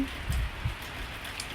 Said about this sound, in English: I absolutely love rain, and it is raining.